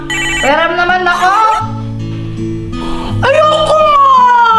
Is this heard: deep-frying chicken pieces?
no